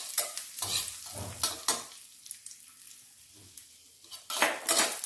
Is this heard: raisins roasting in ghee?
yes